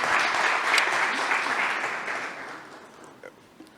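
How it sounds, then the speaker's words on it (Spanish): A conference audience applauds a doctor introduced as the speaker, dense steady clapping filling the hall before tapering off toward the end with a few scattered last claps. "les pido a todos un fuerte aplauso para el doctor"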